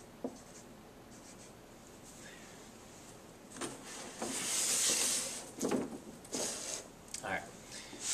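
Pen or marker strokes drawing lines on a number line for a fractions lesson, heard as faint scratchy squeaks in short separate bursts, close up and quiet over a low background hiss.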